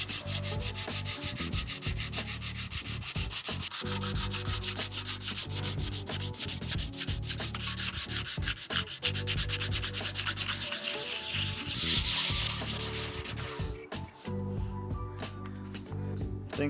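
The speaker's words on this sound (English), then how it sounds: "Probably go in with the hand sander and we'll do some more stuff by hand." A hand sander works over a Harley-Davidson stunt fuel tank, a loud, continuous abrasive rasp with rapid rhythmic scraping strokes that runs for most of the span, then drops to lighter intermittent rubbing near the end.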